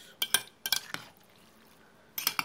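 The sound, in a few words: stirring pasta salad with mayonnaise and salt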